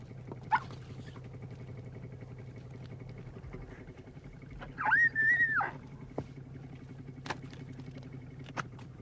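A dog from a sled dog team on a fishing trip whines and yelps in a brief burst midway, heard over a steady low engine drone with a few scattered knocks.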